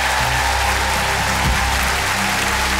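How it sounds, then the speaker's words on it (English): Loud, dense applause from a theatre audience after a magician's audition act on a televised talent show, sustained and unbroken across the whole stretch with no talk. "Give him a massive round of applause."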